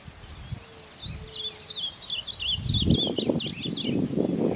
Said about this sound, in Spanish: Reina mora grande.